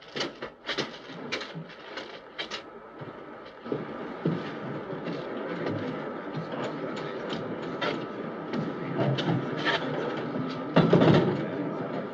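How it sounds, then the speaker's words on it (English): A rocket ship lifts off in the 1951 science-fiction film Flight to Mars, a steady roaring rumble that swells and grows louder toward the end, with scattered crackling bursts over it and no voices. "Watch the takeoff from the control tower."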